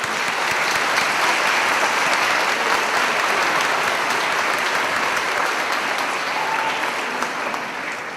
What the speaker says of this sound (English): Students, I think it would be appropriate for you to demonstrate your appreciation by applauding to our honored guests